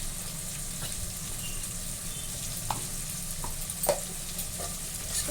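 Chicken sizzling and frying in a pan with masala and chili powder, a steady close crackle with occasional stirring clinks and scrapes, no voice over it.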